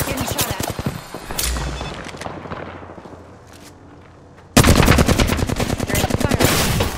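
Rapid automatic gunfire in the Apex Legends video game, loud bursts of rattling shots at the start, a quieter stretch, then another sustained loud volley near the end.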